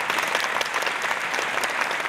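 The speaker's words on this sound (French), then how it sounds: "Je vous demande d'applaudir très fort." A live audience at a French stage show applauds loudly, with a thick, continuous wash of many people clapping that holds steady from start to finish and has no voices over it.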